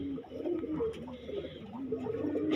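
A Taka pigeon, the ustad's favourite bird, gives repeated low cooing phrases close by, with faint background noise and some voices in the surroundings.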